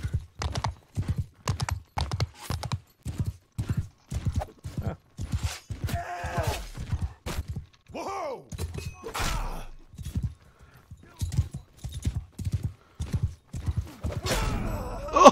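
A horse gallops in the medieval combat video game Mount & Blade II: Bannerlord, with a steady, rapid clip-clop of hooves broken by a brief whinny and a few clashing battle sounds.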